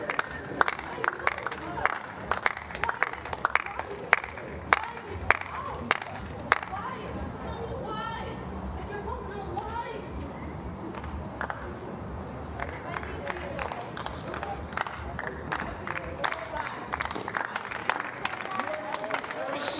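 Tennis crowd at a Zhang Shuai versus Amarissa Kiara Toth match murmuring and breaking into scattered applause, with sharp claps throughout and a continuous chatter of the stands underneath.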